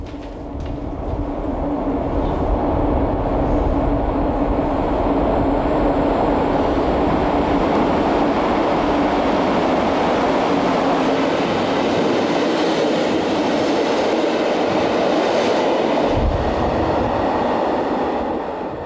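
A train runs through a railway tunnel, a loud, steady roar with rumbling wheels and a constant air-pressure rush that holds at the same strength throughout, with no voices.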